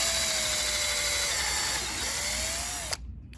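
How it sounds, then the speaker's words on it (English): A power drill bores a hole into a wooden electric guitar body, a loud, steady high-pitched whine with a slight pitch dip under load for about three seconds, then it cuts off abruptly. "Make sure that our drill goes right in there and maintaining a 90-degree angle."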